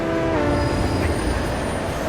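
A train at a station platform in the video game Hitman: Absolution rumbles loud and close, with a high, sustained squeal of wheels or brakes over steady rolling noise, no voices.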